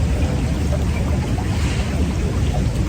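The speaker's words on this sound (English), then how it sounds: "The trickling of the water." Water trickling steadily as a broadband wash throughout, with a soft low rumble beneath and no voices.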